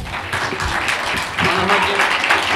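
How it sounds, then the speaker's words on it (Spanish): Crowd applause at a town festival proclamation for the Fiestas del Carmen in Agüimes, a steady broadband clapping that swells louder midway, with some voices mixed in. "Francisco y Luis Benítez, aplauso."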